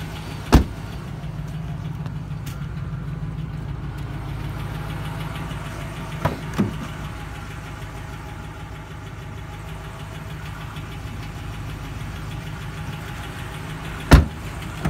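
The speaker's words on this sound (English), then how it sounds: "My phone does pick up the small engine noises, so like valve train and exhaust noise is like amplified" A 2011 Ram 2500 Heavy Duty pickup engine idles steadily at close range, a low even rumble with a few sharp clicks and knocks from the valve train and exhaust scattered through it.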